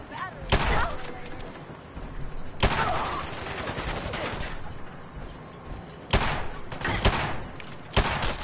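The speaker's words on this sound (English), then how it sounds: "If you listen to the gunshots," Gunshots in Fallout 4 crack out as sharp loud bursts, a few spaced single shots and short volleys, with quieter game ambience and muffled voices between them.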